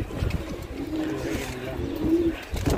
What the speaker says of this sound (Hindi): एक कबूतर आके बैठा हुआ है